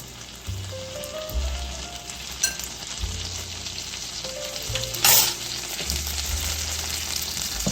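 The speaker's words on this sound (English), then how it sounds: "So just saute that down." Capers and anchovies sauté in a pan for a Mediterranean tuna pasta, giving a steady close sizzle and frying crackle with a few stirring scrapes and one sharper burst midway, with no talking.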